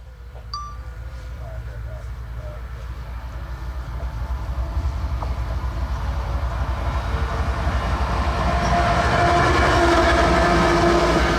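A freight train rumbles past at Nickajack Lake, its clatter building steadily louder and nearer, and a horn sounds as the heavy rolling noise grows.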